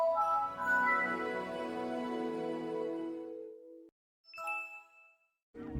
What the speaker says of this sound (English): With Windows Vista arriving in 2007, the startup sound became more sophisticated and immersive.